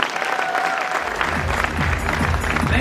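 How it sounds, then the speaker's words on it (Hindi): Audience at an indoor success celebration event bursts into steady, dense applause that continues throughout, with many hands clapping loudly and a slight swell partway, plus faint crowd murmur beneath. "जोरदार ताली बननी चाहिए सबके लिए"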